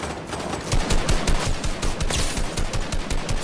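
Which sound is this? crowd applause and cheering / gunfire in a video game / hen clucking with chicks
gunfire in a video game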